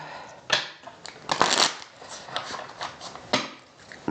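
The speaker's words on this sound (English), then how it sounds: "let me get these shuffled a couple more times" A tarot deck being shuffled, with repeated crisp riffles and card slaps coming in bursts, close and fairly loud, while faint music plays in the background.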